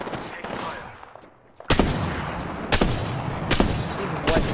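Gunfire in the video game Apex Legends comes as rapid, loud automatic bursts, several sharp volleys close by, with a voice talking underneath.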